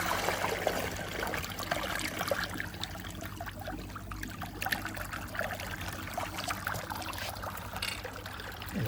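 Water trickling and dribbling from a garden gutter downpipe into a pond, a steady soft splashing patter heard close with faint background noise.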